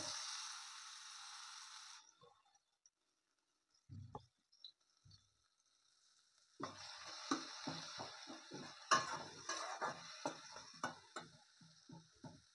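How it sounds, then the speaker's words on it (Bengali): Onions go into a hot pan for a Barisal-style mixed vegetable dish, bringing a sudden hissing sizzle with close, repeated spatula scrapes and clinks against the pan after a quiet stretch. "এবারে দেব পেঁয়াজ।"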